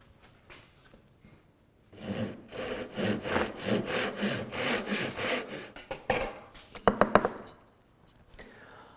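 A hand saw cuts wood down to a scored line, with close rhythmic back-and-forth rasping strokes that build, then quicken into a few final short strokes before stopping.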